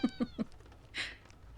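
A cat meows in three short, evenly spaced calls close by, followed by a brief higher breathy sound, with quiet room tone around it.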